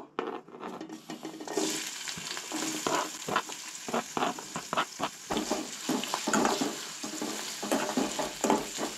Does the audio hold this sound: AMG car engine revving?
no